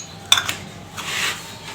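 Dishes for feeding pet birds being handled, with one sharp metallic clink followed by a few light knocks and a soft scraping shuffle, close by and with no talking.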